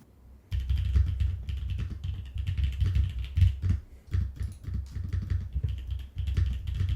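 Rapid typing on a computer keyboard sits behind a Logitech G Yeti GX microphone, steady clustered key clicks continuing for several seconds after a silent start.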